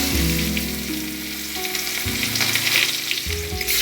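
Onion with black and white cumin frying in a pan, a loud continuous sizzle with some stirring, plus steady tonal hum in the background.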